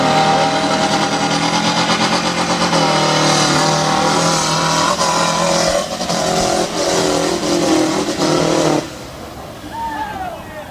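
A 4-cylinder diesel pulling vehicle sponsored by South Bend Clutch launches at a Sanford competition, its engine roaring loud and sustained for several seconds before dropping off, with an announcer talking over it.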